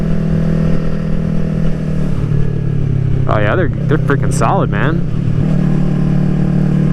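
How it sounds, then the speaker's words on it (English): A steady Yamaha R3 streetfighter motorcycle engine and exhaust drone throughout, with a voice speaking briefly over it in the middle. "And I love the sound of that exhaust. It is so nice."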